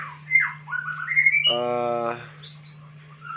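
A white-rumped shama sings clear whistled phrases, then a harsh buzzy squawk, followed by a few more bright notes over a steady low hum.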